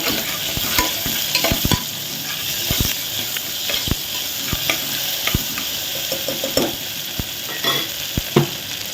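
Ingredients with a pinch of salt sautéing in a pan for vada curry, a continuous loud sizzle broken by sharp scraping clicks of a spoon stirring at irregular intervals, up close.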